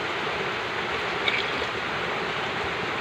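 Floodwater running steadily into a low-lying house from the sides of neighbouring homes, a continuous broadband rushing wash with no talk.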